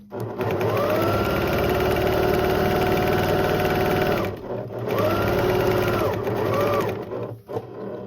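A sewing machine runs in long steady bursts as it stitches a fabric accent onto a store-bought towel, a loud close whirring hum that pauses briefly between runs, with no talking.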